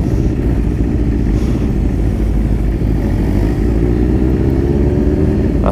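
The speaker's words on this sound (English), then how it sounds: "as they see the bikes go by" Motorcycles on a charity bike run pass close by, a loud, continuous blend of mid-pitched engine roar and exhaust rumble that swells slightly as the bikes ride past without a break.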